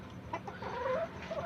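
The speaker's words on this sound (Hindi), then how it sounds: "ये हमारे पास असील मुर्गा है, इसके साथ 2 मुर्गियाँ भी हमने बांधी हुई है।" An Aseel rooster and two tethered hens on a rooftop poultry setup give soft, close clucking calls, a few brief murmuring notes over a low background hum.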